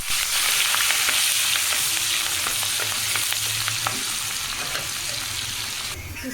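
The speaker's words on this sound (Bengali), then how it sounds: "এই জায়গায় পেঁয়াজ কুচি আর কাঁচামরিচ কুচি দিয়ে দিলাম।" Chopped onion and green chilli fry in hot oil in a pan for a Bengali river pangas fish and cauliflower curry, giving a loud, steady sizzle with light stirring scrapes throughout.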